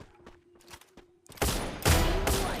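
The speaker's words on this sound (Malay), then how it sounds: "Itu dah tembakan dilakukan oleh Bell" Gunfire from the character Bell in the Free Fire battle royale game: faint scattered shots at first, then a loud dense burst of rapid firing, a second volley and a lingering roar.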